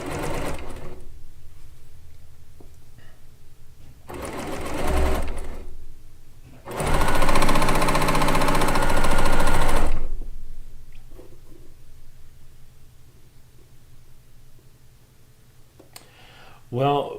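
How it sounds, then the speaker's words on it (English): A Baby Lock blind hemming sewing machine runs in short bursts, a brief start, a second burst and a longer steady whir of about three seconds, close by, separated by quiet pauses with faint talk between. "It's a blind hemming machine."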